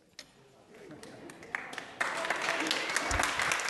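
Applause breaks out in a city council chamber, beginning with a few scattered claps and swelling into a loud, sustained ovation from the audience.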